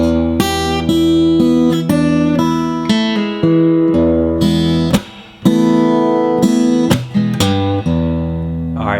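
Acoustic guitar in open E tuning playing a 12-bar blues pattern, with steady strummed and picked chords ringing out alone at close range and a brief pause midway.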